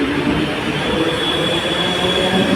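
A Mumbai suburban train runs along the tracks after heavy rain, a loud steady rumble and hiss of wheels and carriages close by, with no voices.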